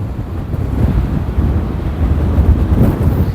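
Strong wind on the Atlantic coast of Spain buffets the microphone in a constant low roar, with surf-like rumbling beneath, loud and unbroken from start to finish.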